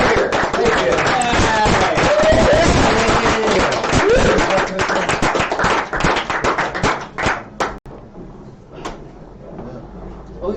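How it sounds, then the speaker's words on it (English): Audience applauding loudly at a late-night comedy show, dense clapping with cheers that thins out and fades into scattered claps near the end. "One more big round of applause for our acts."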